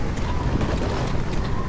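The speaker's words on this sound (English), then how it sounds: "God, that is quite windy." Strong wind blows in the Astroneer game, a steady loud roaring rush filling the whole moment without talk.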